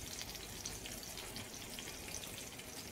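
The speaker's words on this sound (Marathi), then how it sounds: "अशा थोड्याशा तेलावरती आपल्याला या मिरच्या फ्राय करून घ्यायच्या आहेत." Green chilies stuffed with flour frying in a little oil, a steady, even sizzle with soft crackles throughout and no talking.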